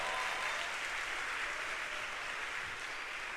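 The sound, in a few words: church congregation applause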